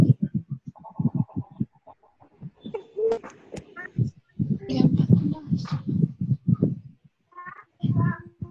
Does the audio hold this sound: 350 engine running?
no